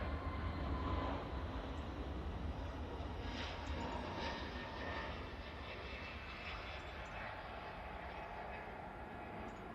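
Airliner touching down on the runway at Manchester Airport, a broad roaring engine rumble that is loudest at the start and eases off steadily as it rolls out, heard from a distance without talk.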